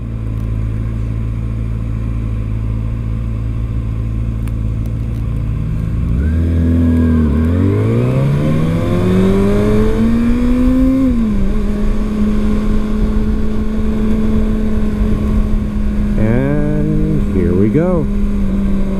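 A 2019 Kawasaki Ninja ZX-6R motorcycle idles loudly, then revs hard and accelerates onto a freeway, its engine pitch climbing through several gear changes before settling into a steady high drone, with more quick revs near the end.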